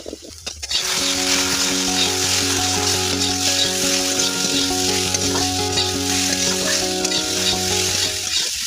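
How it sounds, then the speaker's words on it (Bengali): Potatoes with turmeric and salt fry in a wok while being stirred. A loud, steady sizzle continues throughout with a constant low hum beneath and occasional scraping. "আলুগুলো ভালো করে নাড়া হয়ে গিয়েছে।"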